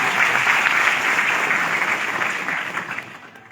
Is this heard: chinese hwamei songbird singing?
no